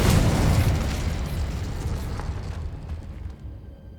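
A Confringo spell explodes in Hogwarts Legacy with a loud, booming blast that hits at once and rolls on as a rumbling roar, fading away over several seconds.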